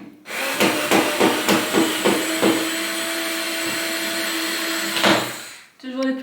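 A power screwdriver drives a screw into the second door panel of a cabinet during a move, with a few short bursts and then a steady loud whir lasting several seconds before stopping.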